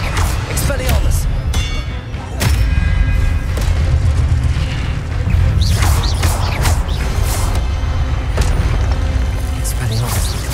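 Expelliarmus and other spells are cast in a loud Hogwarts Legacy battle, with booming impacts, sharp magical bursts and mechanical clinks layered continuously, while voices sound throughout the fight.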